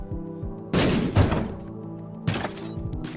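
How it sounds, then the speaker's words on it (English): Bombs fired and bursting in The Binding of Isaac, three heavy thudding explosions with shattering crunches, the first two close together and a third after a pause, set over a steady tonal game soundtrack. "not only do I have unlimited bombs that I can fire, but now the bombs are going to be even more powerful"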